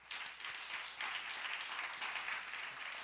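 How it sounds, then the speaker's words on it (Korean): A church congregation at a university worship service gives encouraging applause, a fairly quiet but steady crowd of clapping hands that begins abruptly and continues evenly throughout. "우리도 격려의 박수."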